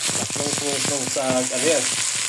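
Tomatoes sautéing in a thin pan, a continuous close sizzle overlaid by a voice speaking Tagalog through most of the moment.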